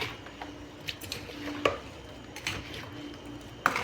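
A spoon stirs oil into a spiced pickle mix in a large vessel, making soft wet squelches and scattered light scrapes and clinks against the container, moderately close, with no talk.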